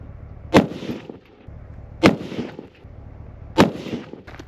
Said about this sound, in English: Hopefully this is the last 3 shots I need to take.